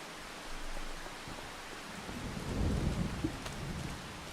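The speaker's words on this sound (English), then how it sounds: "let's try to get rid of this rain" Steady rain hisses throughout a Farming Simulator 25 thunderstorm, with a low rumble of thunder swelling midway and fading, no voices.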